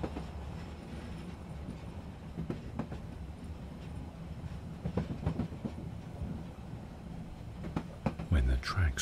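A train climbs slowly around a mountain slope, its quiet, steady clickety-clack and low rumble running faintly beneath a calm speaking voice.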